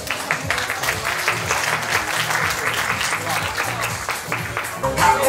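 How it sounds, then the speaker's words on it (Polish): Audience applause at the award ceremony of a dog grooming show, a steady sustained round of clapping from a sizeable crowd filling the room with an announcer's voice faintly underneath. "Congratulations, wielkie brawa."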